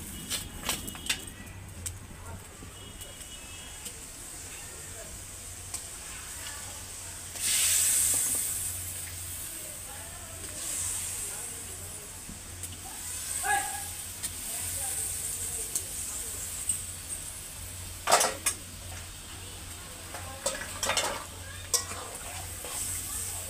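Fish pieces slip into boiling spiced water in a pan. A steady hiss and bubbling carries sharper splashy bursts as they go in, with no talking.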